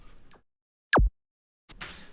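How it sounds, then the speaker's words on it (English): A punchy psytrance kick layer from the Kick 2 synth plugin strikes once, loud and close, with a sharp click and a quick downward pitch sweep. Faint voice fragments sit before and after it. "So the kick coming straight out of kick 2 sounds like this."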